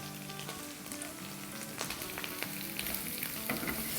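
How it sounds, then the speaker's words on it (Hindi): Mustard seeds and cumin crackling in hot oil, a continuous dense sizzle with scattered sharp pops, close and fairly quiet, with no talking. "तो यहाँ राय और ज़ीरा हमारा क्रैकल हो रहा है।"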